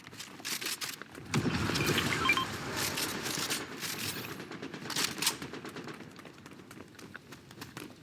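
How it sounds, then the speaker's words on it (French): Bursts of rapid gunfire in a French-language battle royale style video game, clustered volleys starting sharply and continuing in irregular rattling bursts at moderate distance, with no talk. "Là-bas, il y a des tirs, viens, on y va."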